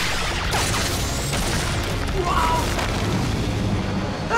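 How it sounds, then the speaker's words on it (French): The Super Mega Blaster, a Power Rangers Super Megaforce weapon, fires with a sustained, rumbling blast, and voices are heard over it. "Tire. Super Mega Blaster."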